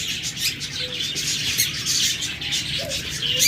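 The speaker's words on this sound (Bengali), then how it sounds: "এখানে দেখুন পর্যাপ্ত পরিমাণ ককাটাল রয়েছে" Cockatiels in a bird shop chirping continuously, a dense mix of bright calls and tweets from many birds nearby with occasional softer coos, no talk.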